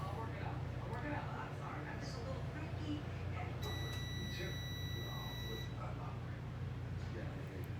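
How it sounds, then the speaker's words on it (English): A microwave oven beeps to signal that the toast is done: one sustained electronic beep of about two seconds, clear over steady room noise and faint voices. "There's the beep."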